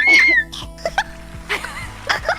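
A person mimics a baby's cough in a few short, breathy bursts, with squeaky giggling sounds mixed in, fairly close and loud at first, then quieter.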